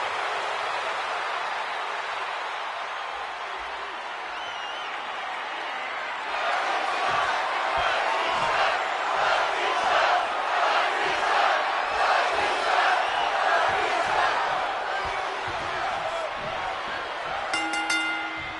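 A WWE 2K26 arena crowd roars with cheers and chants, a softer murmur at first that swells loud and sustained after a few seconds, with scattered claps and shouts mixed in.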